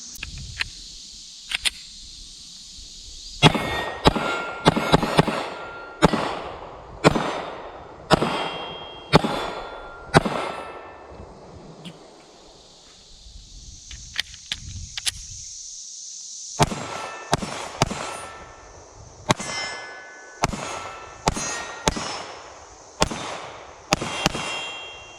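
Shadow Systems CR920 pistol shots fired at steel targets from around 15 yards: a long series of sharp, loud cracks, each followed by a bright metallic clang ringing off the steel, with short pauses between strings of shots.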